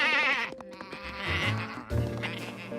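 Cartoon sheep bleat in a rapid, wavering series, loud and close, with a second burst of bleating after a short pause and a low rumbling sound beneath.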